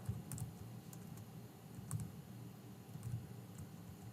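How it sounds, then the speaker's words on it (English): Keys tapped on a computer keyboard in a small sequence of soft, irregular clicks with faint low room rumble behind them and no talking. "How many mistakes can you make typing a 5-word letter?"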